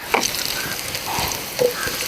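A couple of broken Kashmiri chillies fry in oil over a medium flame, with a steady close sizzle and a few brief spits and stirring sounds.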